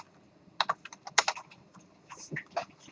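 Keys clatter on a computer keyboard in short irregular bursts of clicks, moderately close and clear, with no talk over them.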